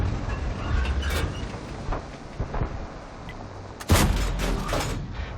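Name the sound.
tank gun shot in World of Tanks video game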